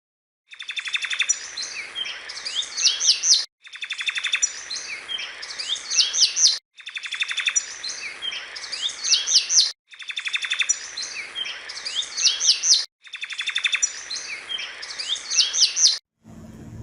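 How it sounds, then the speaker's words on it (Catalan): A mechanical toy songbird sings the same melody over and over, five near-identical phrases of bright chirping trills separated by brief pauses, clear and alone without any talk. "Era un ocell robòtic que sempre cantava la mateixa melodia"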